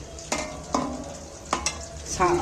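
Pakoras frying in oil while being stirred, a loud close sizzle punctuated by several distinct scraping stirs against the pan.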